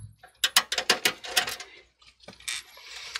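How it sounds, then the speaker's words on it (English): Tiny screw being removed from a metal bracket inside an HP TP01 computer, heard as a close run of quick metallic clicks and ratcheting ticks followed by a few softer scrapes. "remove that tiny little screw here"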